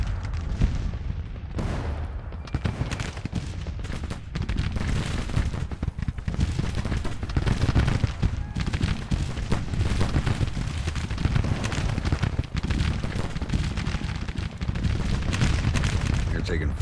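Continuous musket volleys and artillery booms rumble from a Civil War battle in the strategy game Grand Tactician: The Civil War, a dense rolling barrage of overlapping shots at mid distance with no letup.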